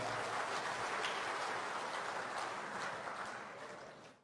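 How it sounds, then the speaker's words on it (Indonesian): Applause from the audience at a national working meeting, greeting the Papua delegation: a steady, dense wash of clapping that holds evenly, then thins and fades toward the end. "tepuk tangan untuk Papua juga"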